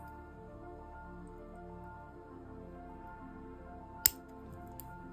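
A single crisp scissors snip while cutting pieces for a DIY phone charm, one quiet, sharp cut against a faint room hum.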